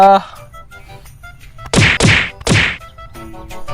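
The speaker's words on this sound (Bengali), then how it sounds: "তুই বুক পেছে থাবর দিলি কি হ্যাঁ?" Three loud, sharp slaps landing in quick succession, as in a hand striking someone's back during a comic drama scene, with voices speaking before and after the blows.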